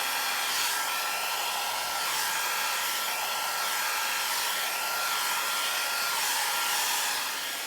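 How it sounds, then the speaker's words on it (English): Small air blower pushing alcohol ink blending solution across black Yupo card, a loud continuous hissing rush of air with slight wavering in intensity, heard alone without talk. "I'm just going to use my blower and just give it a good blow around"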